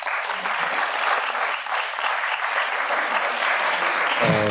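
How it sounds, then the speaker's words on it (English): A studio audience applauds on a talk show, with steady, dense clapping from many hands that keeps on at full strength throughout, close and loud, with no voices above it. "People applaud if you've seen one."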